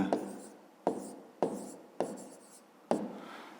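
A pen or marker scratches out a math exercise in five sharp separate strokes, each with a crisp onset and a fading scrape, close up with no talking.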